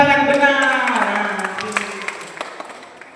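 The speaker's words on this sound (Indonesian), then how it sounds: "Kasih tepuk tangan benar." A church congregation breaking into applause, with scattered claps rising after a speaking voice and continuing as a moderate, fairly sparse patter that fades toward the end.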